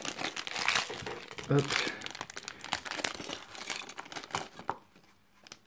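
Crinkling plastic bag being torn open and rummaged, holding LEGO Bionicle accessory pack pieces, close and fairly soft, with a brief spoken word over the rustling.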